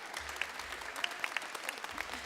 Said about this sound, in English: And that applause led by Mohammed Noor, Director of DPW.